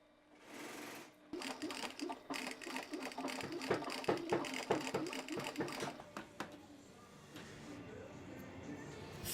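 Sewing machine stitching leather shoe pieces in a Tuscan workshop: a rapid, even mechanical clatter that runs for several seconds, then slows and stops, with a few quieter handling noises around it.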